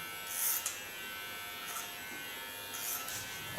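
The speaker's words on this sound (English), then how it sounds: "taking my large flat comb and my large sciona clipper" A Sciona electric hair clipper cutting short hair on the sides of the head, giving a steady faint electric hum with a few brief louder buzzy passes as it moves through the hair.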